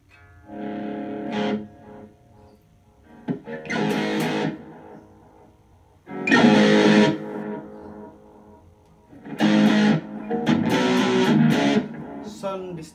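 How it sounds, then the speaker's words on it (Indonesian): Electric guitar with distortion played through an Ammoon portable wireless guitar system, heard as several loud bursts of chords and riffs separated by brief pauses and ringing decays, close and alone. "Kita coba sound distorsi, apakah dia noise atau enggak."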